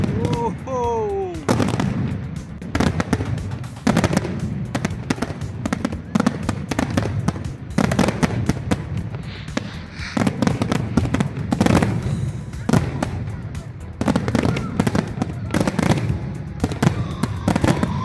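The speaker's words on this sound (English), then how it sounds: "Fireworks started." Fireworks burst at the Sheikh Zayed Festival in Abu Dhabi, a dense run of loud booming and crackling explosions in rapid irregular succession, with excited voices in the crowd between blasts.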